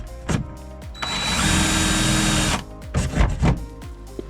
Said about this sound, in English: holes are drilled through the hole, I guess deck, and through the arch